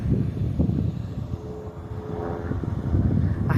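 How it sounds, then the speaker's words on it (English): A distant propeller airplane drones overhead above a Walmart Supercenter parking area, a low steady hum that swells slightly toward the end. "I hear an airplane."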